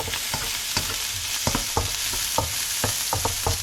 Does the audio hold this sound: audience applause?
no